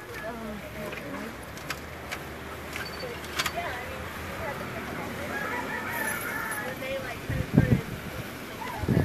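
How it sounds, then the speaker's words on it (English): Roosters crow and chickens cluck at a distance amid outdoor background noise, with scattered voices nearby. "And I hear roosters, chickens."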